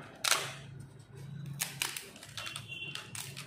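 Roasted papad snaps by hand into small pieces, giving a few crisp, dry cracks and crackles, close and fairly quiet over a faint low hum.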